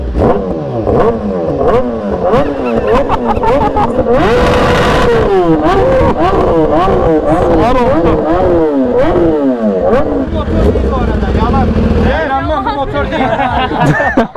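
Motorcycle engines rev in repeated loud, rising and falling bursts at a motorcycle festival in Adana. Crowd chatter and voices run underneath the revving.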